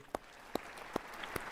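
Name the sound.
applause for the speaker at an African Union summit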